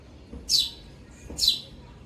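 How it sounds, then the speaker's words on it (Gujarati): Sparrows chirping in the early morning near scattered millet grain, two short bright chirp bursts about a second apart, fairly close and clear over a quiet background. "જો કેવો કલબલાટ કરે છે ચકલિયું અત્યારમાં સવારમાં"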